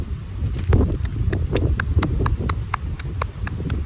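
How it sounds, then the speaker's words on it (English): Wind blowing outdoors at a poetry slam, a steady broadband rush filling the whole stretch with no voices, overlaid by a series of light regular ticks. "I'm gonna wait for this wind to blow"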